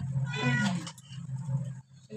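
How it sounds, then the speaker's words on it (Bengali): A cat meows insistently in a home, a drawn-out, wavering cry near the microphone followed by a quieter second meow, with no talk over it. "বিড়ালটা শান্তি দিচ্ছে না"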